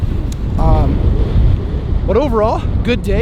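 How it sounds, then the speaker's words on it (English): Gusty outdoor wind buffeting a microphone at the Michigan Ultimate Fishing Show in Novi, a steady low rumble throughout with someone talking over it. "I apologize for the wind."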